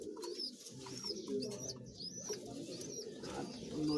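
Pigeons of one bloodline, kept as a breeding pair with young, coo softly over a busy murmur of low cooing, with thin chirps and calls higher up and faint talk in the room.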